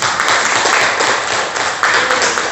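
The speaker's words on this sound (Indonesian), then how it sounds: "Tepuk tangan" Group applause for a student during a physical fitness class session, a loud, dense burst of clapping holding steady for a couple of seconds, with a brief surge near the end.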